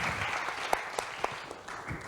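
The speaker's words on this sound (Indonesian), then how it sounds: "Boleh beli aplaus dulu untuk Kak Renda." Audience at a talk-show event applauding a guest, steady, moderately loud clapping from a room of people with a few sharper individual claps standing out.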